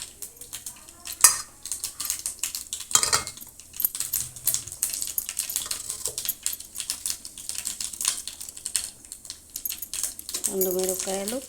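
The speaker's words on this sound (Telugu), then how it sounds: "ఆవాలు జీలకర్ర వేస్తున్నానండి." Mustard and cumin seeds frying in a pan, with rapid crackling, popping and spoon clatter close by, and a short sizzling flare near the end.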